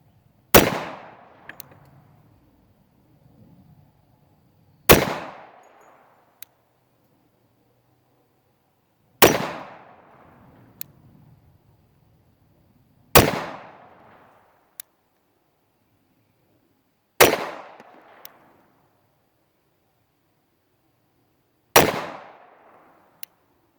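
A Tsias Duty .45 Auto pistol fires seven rounds at a 7-yard defensive range. Each report is sharp, loud and close, with a fast decay, spaced roughly four seconds apart. Faint clinks sound between the shots.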